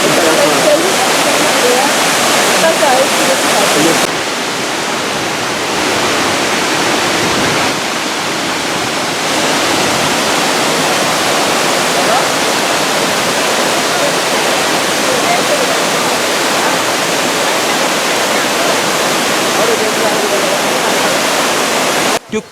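A waterfall roars in a natural setting, a loud, dense and unbroken rush of falling water that holds steady throughout, with a brief dip in level partway through.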